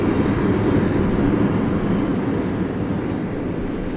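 A Frontier Airlines jet with a shark livery rumbles at DFW airport, a loud, steady roar of engine noise holding evenly with no voices over it.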